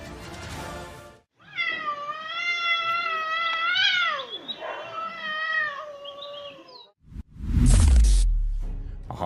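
A cat meows repeatedly in long, wavering, drawn-out calls that rise and fall, loud and close, with a brief low thump at the end.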